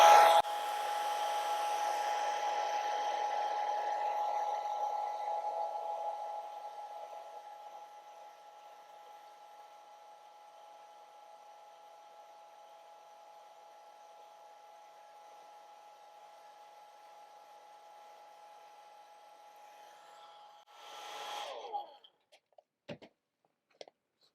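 A hair dryer blows on watercolor paint with a steady whirring rush that drops to a softer, lower setting after about six seconds and runs on faintly. It stops near the end and a few light clicks and taps follow.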